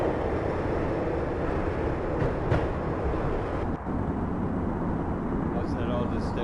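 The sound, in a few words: train slowing down in the video game Max Payne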